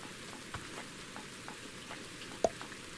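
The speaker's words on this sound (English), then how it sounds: "It's already raining." Rain falling in the settlement game Odd Realm, a faint, steady patter with a few soft drop taps, no voices.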